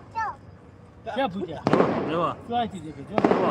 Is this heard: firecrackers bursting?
yes